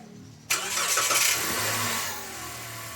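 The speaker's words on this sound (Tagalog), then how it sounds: "Pa-start ko na itong makina." A Toyota Avanza engine cranks and catches abruptly, revving up briefly before settling into a steady idle.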